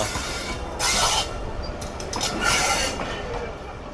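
The Rehman Baba Express pulls away toward Karachi, its wagons rumbling with bursts of wheel rubbing and squeal, fairly close and loud.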